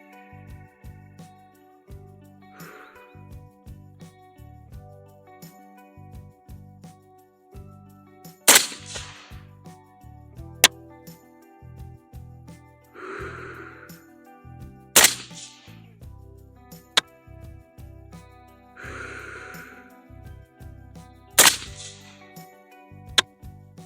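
Three sharp rifle gunshots from a budget DMR fired at a range, spaced several seconds apart, each a loud crack with a short decay, with faint clicks and handling noise between them.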